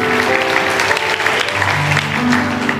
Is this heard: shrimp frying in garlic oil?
no